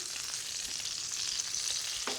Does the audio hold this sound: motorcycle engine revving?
no